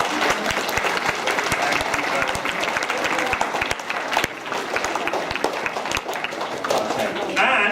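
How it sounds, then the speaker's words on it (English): An audience at a World Book Day storytelling event gives a volunteer a dense, sustained round of clapping that fills the room nearby, with voices faintly mixed in beneath it. "We have a big round of applause for this."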